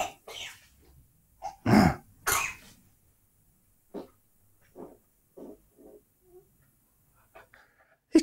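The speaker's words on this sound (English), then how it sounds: "coughing out of one and farting out the other" A small pet dog coughs in a loud cluster of harsh hacks, then follows with a run of softer, evenly spaced huffs and snorts, ending in one more sharp burst close by in a quiet room.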